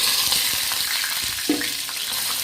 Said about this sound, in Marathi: बघा आता मसाला भाजून घेते